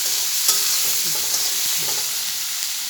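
Onions sizzle and fry in a pan with a steady bright hiss, broken by a few stirring scrapes.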